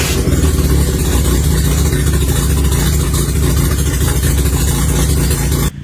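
Mazda RX7 rotary engine idling roughly with an uneven, lumpy beat, close and steady throughout, then cutting off abruptly at the very end.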